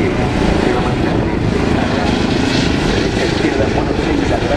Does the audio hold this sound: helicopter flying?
yes